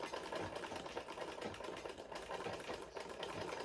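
A sewing machine runs steadily as it back stitches fabric for a traditional Yoruba outfit, a quiet continuous mechanical hum and rapid needle chatter heard alone.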